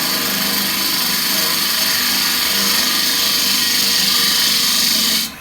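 Woodturning tool cutting freshly cut green wood while turning a goblet on a lathe, a loud continuous whirring, hissing shear with little change until it drops away at the end.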